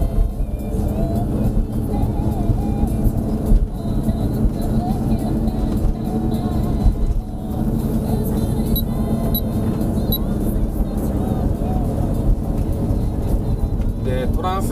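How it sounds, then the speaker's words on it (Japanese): Cars and taxis pass by at night on a Tokyo street, a steady hum of traffic heard from inside a parked diesel camper van, with a voice talking over it throughout. "夜なんでねタクシーがいっぱい走ってきますよ"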